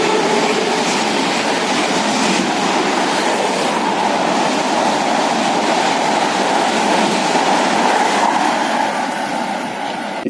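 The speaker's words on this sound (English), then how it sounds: "Recently in Russia have appeared really fast trains." A Sapsan high-speed train in Russia produces a loud, continuous roar and rushing rail noise, steady and close for the whole stretch with no talk.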